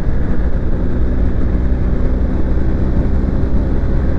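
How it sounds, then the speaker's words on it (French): A new BMW GS Adventure motorcycle being ridden during break-in, its engine droning loud and steady with continuous road and wind rumble; gear changes up through fourth and fifth do not stand out distinctly. "je passe les vitesses. 4, 5."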